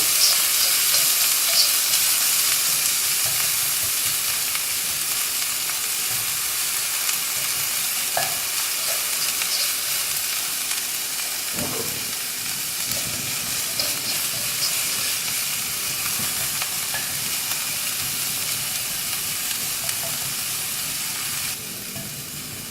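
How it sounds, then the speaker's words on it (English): Onion, garlic and ginger fry in a pan for sabudana khichdi, giving a steady, close sizzle with occasional scrapes of stirring throughout and no talking. "I will give it a fry until the onion becomes translucent."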